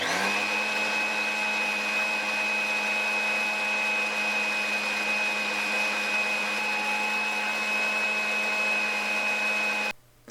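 A hand mixer whirs steadily, beating vegetable oil into eggs and sugar for pancake batter; a loud, continuous motor drone with a constant pitch runs nearly ten seconds, then cuts off abruptly.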